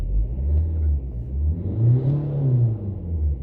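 A Volvo V50 engine with a P2520 fuel pressure fault idles with a deep rumble, then revs up once, the pitch rising and falling smoothly before settling back to idle.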